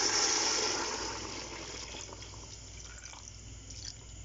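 Yakhni broth pours into a pulao pot, a splashy liquid rush that is strongest at first and then settles into soft trickles and drips, fairly close and quiet.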